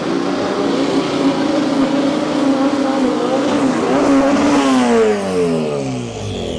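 A Mini fitted with a turbocharged Honda K20 engine launches down a drag strip at a street-car weekend, its engine roaring loud and close, revving hard through rising gear pulls with a hint of tyre scrabble before fading away.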